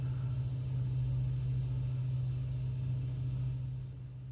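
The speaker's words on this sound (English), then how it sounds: "I'm going to just turn the engine noises down." Lockheed Vega 5 aircraft engine in the Prepar3D flight simulator, a steady low droning rumble with a strong hum, continuous and close, easing slightly toward the end.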